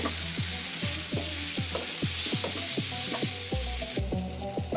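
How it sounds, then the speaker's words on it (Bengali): Shredded pointed gourd frying crisp in hot oil gives a steady, close sizzle, with regular clinks and scrapes as the strands are stirred and turned about every half second. "এবার উল্টিয়ে পাল্টিয়ে সুন্দর করে মচমচা করে ভেজে নিতে হবে।"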